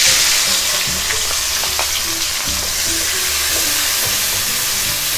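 Finely chopped onions sizzle steadily in hot oil in a pan while a Dhaba-style rajma masala is cooked, with a dense continuous frying hiss and occasional soft stirring scrapes, close and fairly loud, no talking.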